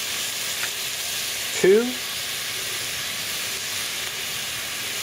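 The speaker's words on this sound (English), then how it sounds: "the next thing to go in is some hot Italian sausage that we're going to take out of the casing and stick in there" Hot Italian sausage sizzling in a pot for venison chili, a steady frying hiss throughout with one brief louder clatter and a spoken word.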